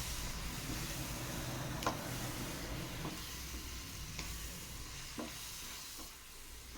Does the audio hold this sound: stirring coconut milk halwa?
yes